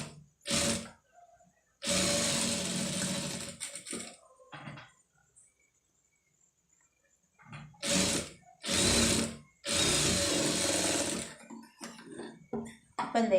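Sewing machine stitching a neck design on cloth, running in several bursts of a few seconds each with pauses and small handling noises between, close and fairly loud.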